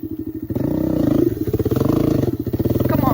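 A dirt bike engine revs hard while climbing a slope on a trail, a loud buzzing, throbbing exhaust note that rises and wavers, with a brief voice heard partway through.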